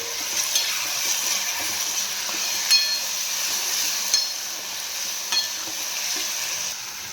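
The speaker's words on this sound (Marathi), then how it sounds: "सगळं एकजीव करून घेऊया छान मिक्स करून घेऊया" Chopped cherry and regular tomatoes stirred into a frying besan mixture, a continuous close sizzle broken by a few sharp spoon taps against the pan, with no voices.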